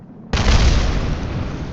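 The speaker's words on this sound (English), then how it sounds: "And we get a fireworks show. It does kind of sound like fireworks." Rocket stage separation explosion in Kerbal Space Program, a sudden loud boom that breaks the silence and then rumbles on as a sustained blast.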